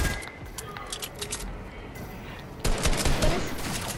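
Hand cannon gunfire in a squad-based shooter video game: sharp shots crack in quick bursts, joined by more distant gunfire and a louder flurry in the second half, while players talk over the action.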